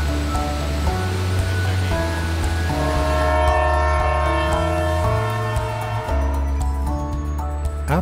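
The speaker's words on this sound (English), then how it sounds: "the train calls all passengers to return and board for the trip back to Sault Ste. Marie." A steady, sustained train horn blares close by at Otter Creek Falls on a Lake Superior tour train, holding several overlapping tones for the full stretch with a low rumble underneath.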